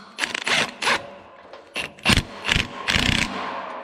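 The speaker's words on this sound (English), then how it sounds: "I'll grab my impact" Short, loud bursts from an impact wrench tightening a plow bolt on the cutting edge of a Cat 140 grader, coming as several rapid rattling pulses with brief pauses between them, close by.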